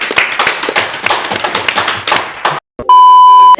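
Dense, close clapping from a group at an Islamic Quran boarding school gathering, a rapid burst lasting about two and a half seconds, then a short gap and a steady electronic beep tone.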